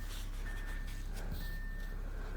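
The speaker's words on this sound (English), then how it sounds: "There goes the big truck." A big truck backs up, its reversing beeper sounding as a steady high tone that drops out and returns, over a low rumbling engine and broad road noise.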